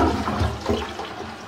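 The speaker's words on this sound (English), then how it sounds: "It's trouble to flush this thing." A troublesome household toilet in a house in Neath, Wales, flushes with a close, loud rush of water that surges and gurgles, then gradually eases off, with no voices.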